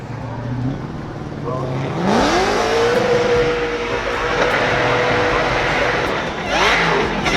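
A Formula Drift car spinning out across the finish line, its engine loud and close, rising sharply in pitch then holding a strained high whine with broad tire and exhaust roar throughout.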